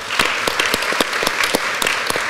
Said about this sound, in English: what you have all been privy to is the Serpentine Gallery Clapathon, which is a way of acknowledging everybody